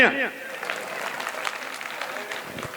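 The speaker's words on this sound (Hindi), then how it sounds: "तालियां" At a Hyderabadi comedy show, a voice trails off at the start and a moderate round of clapping follows, a light, uneven patter from the audience that continues quietly for a couple of seconds.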